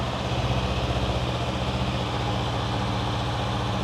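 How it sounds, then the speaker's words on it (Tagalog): A stock-exhaust 2023 Honda CB500F with a 471cc two-cylinder engine idles steadily, giving a smooth, even, low rumble with a soft pulsing beat, close and alone. "Kung ano ba yung tunog ng 2-cylinder na 471cc."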